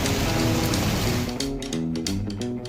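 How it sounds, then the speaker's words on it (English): Steady rain hiss fills the clip with a soft musical tone underneath, continuous and fairly loud. "It's raining outside."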